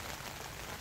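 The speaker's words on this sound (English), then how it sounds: "but it's raining, and I don't like going outside in the rain" Rain falling outside a tent at a family campsite, a soft, even hiss of drops that stays faint and constant with no talk.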